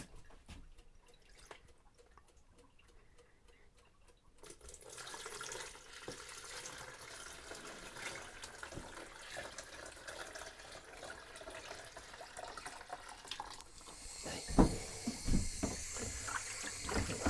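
Tap water runs steadily into a sink with a soft, wet hiss that grows louder partway through, punctuated by a few faint drips and clinks.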